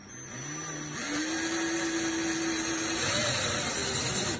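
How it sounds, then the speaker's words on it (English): An electric drill whirs up to a steady high whine and holds it for several seconds, grinding close by into glass as it starts a hole, before winding down. "we start the drill going nice and slowly"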